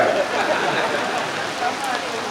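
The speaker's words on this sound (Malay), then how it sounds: "Saya tak tahulah apa hal, bila saya datang belah sini selalu hujan." Rain falls during an outdoor public talk in Trong, Malaysia, as a steady, dense hiss of drops on surfaces that stays loud and even throughout.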